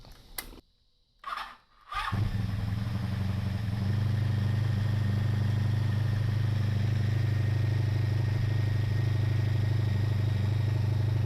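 A Honda Magna motorcycle engine cranks with a couple of brief bursts, then catches and settles into a steady, loud, close idle that runs on without talk.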